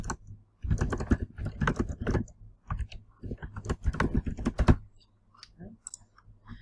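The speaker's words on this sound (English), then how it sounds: "You type in the name, you can type in this description" Rapid bursts of key clicks on a computer keyboard, clustered in quick runs with short pauses, close and clear, then trailing into a few scattered taps near the end with no speech.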